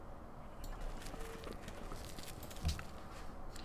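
Horse hooves clip-clop faintly in a Civilization game, a quiet, steady walk of soft thuds with one slightly stronger knock near the end.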